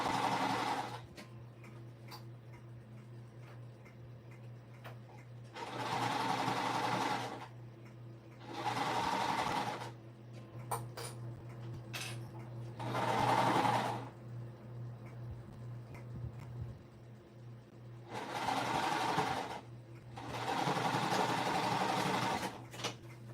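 A sewing machine stitches a curved seam on a Minky fabric stuffy ball, running in several distinct bursts of steady whirring with quiet pauses and light clicks between them, close and clear.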